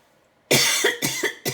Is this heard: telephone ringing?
no